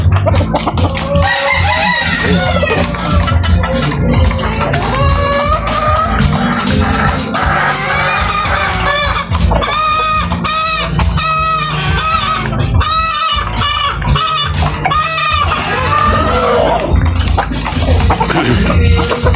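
Gamefowl roosters of the Sweater bloodline crow loudly and repeatedly at close range, their calls overlapping with steady clucking from the flock, with no talking over them.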